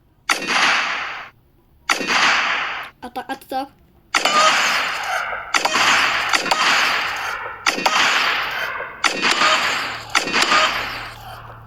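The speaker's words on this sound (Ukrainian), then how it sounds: "А тепер послухайте звук у цієї пушки." Several bursts of noisy, crackling game gunfire in long repeated volleys, with a short burst of quick chirps between them.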